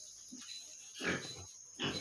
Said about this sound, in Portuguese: Aqui só tem um porco ali, que também tá.